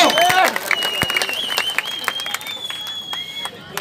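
At a political rally, a crowd claps and cheers in scattered bursts of irregular applause while a voice or whistle-like tone carries over it, all close and moderately loud.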